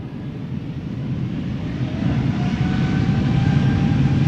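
A three-year-old KLM Embraer 195-E2 jet departing Amsterdam Schiphol Airport roars steadily and loudly at close range, its engines building slightly with faint whining, wavering tones from differing RPM.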